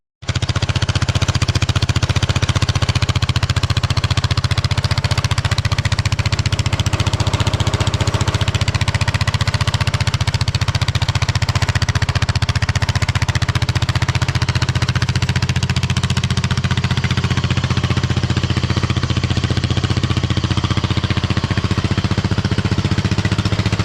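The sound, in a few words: loud custom lawn mower engine running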